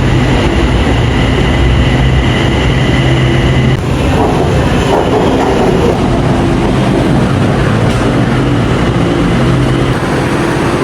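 Loud, continuous rumble and hiss from inside a moving Bangkok metro train, with a steady low drone and rattling wheel noise throughout, no talking heard.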